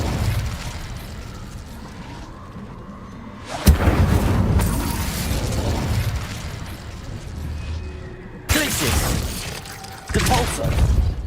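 An Incendio fire spell cast in Hogwarts Legacy, a sudden loud burst with crackling roar, followed by a second sharp blast near the end, amid game combat noise.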